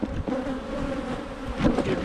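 Honeybees drone in a dense, continuous buzz at an early-spring hive, close and loud, with individual bees swelling briefly over the steady hum.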